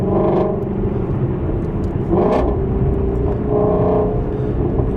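Ford Mustang GT350 with a Corsa X-pipe resonator delete, its exhaust droning steadily from close by while driving, with two brief swells of louder revving as the car pulls through the gears.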